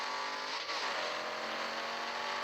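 A car engine in Drive Zone Online revs steadily with the handbrake held and the gas pressed, a continuous high droning roar at near-constant pitch, close and unbroken.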